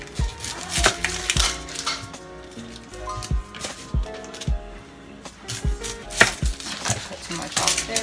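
An onion being chopped on a cutting board for tuna melts, with a brisk, uneven run of sharp knife taps, close and fairly loud, no voices.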